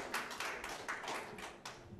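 Church congregation applauding, a light, thin patter of hand claps heard faint and somewhat distant, with uneven bursts.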